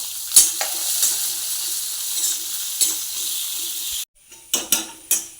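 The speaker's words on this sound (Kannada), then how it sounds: "ಈಗ ಈರುಳ್ಳಿ ಬೆಳ್ಳುಳ್ಳಿ ಶುಂಠಿ ಕಾಯಿಮೆಣಸನ್ನು ಒಟ್ಟಿಗೆ ಹಾಕ್ತಾ ಇದ್ದೇನೆ" Chopped onion, garlic, ginger and green chilli dropped into hot oil in a pan, a loud continuous sizzle with stirring scrapes that cuts off abruptly, followed by a few sharp clanks of the pan and spoon.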